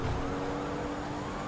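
A police siren wails steadily close behind a fleeing player in GTA 5, its tone sliding continuously above rumbling game traffic.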